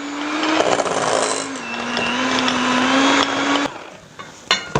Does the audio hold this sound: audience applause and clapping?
no